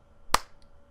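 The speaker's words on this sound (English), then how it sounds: "But you can hear that clap" A single sharp hand clap used to sync recorded audio, close and loud, standing alone against quiet background hum.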